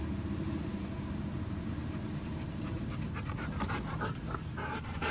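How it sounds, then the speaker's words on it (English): A Bernese mountain dog named Sally pants steadily and rapidly at a hay field during a second cutting, the breathing close and continuous over a broad low rumble of distant machinery. "Our Bernese mountain dog Sally is making sure we're doing everything right."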